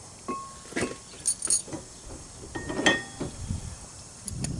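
Metal brake pads knock and clink softly as they are fitted into a caliper during a front brake job on a 2006 Dodge Grand Caravan, a few scattered light taps and scrapes close by, fairly quiet overall.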